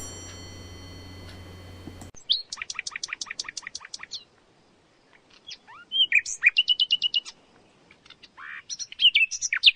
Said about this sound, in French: Et même aussi des rossignols.